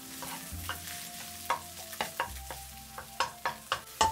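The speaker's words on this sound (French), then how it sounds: "Je fais cuire 2 œufs en 40 secondes en remuant et tapotant pour les couper" Two eggs fry over high heat in a pan while being stirred and tapped into small pieces, giving a soft steady sizzle punctuated by a series of sharp utensil taps and scrapes against the pan.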